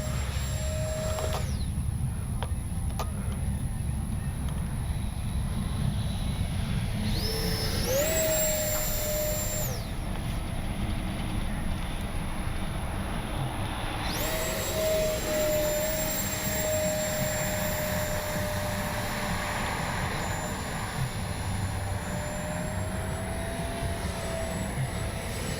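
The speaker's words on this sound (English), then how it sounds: "Good flying little jet." A Freewing Banshee sport jet, a small electric RC model, flies past with a steady whooshing ducted-fan roar that rises and falls in pitch as it passes repeatedly over the field, loud and continuous with no talk.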